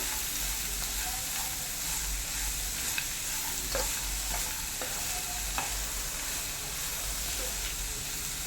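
Beans stir-fry with onion and turmeric being stirred in a pan in a Kerala kitchen, a steady soft sizzle with scattered light scraping clicks of the spoon, close and continuous, no voices.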